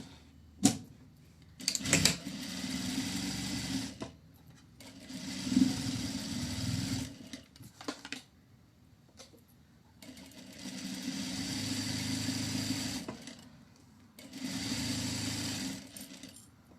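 A sewing machine stitches the bottom edges of a cotton hood in several bursts of a few seconds each, a steady close whirring rattle that stops and starts with quiet pauses and short clicks between runs.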